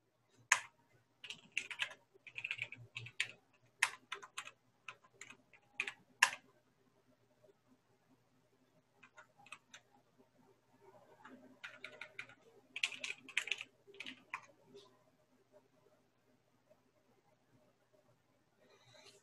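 Quick bursts of close, crisp keystrokes on a computer keyboard come in two busy clusters separated by a quiet gap, fairly faint overall.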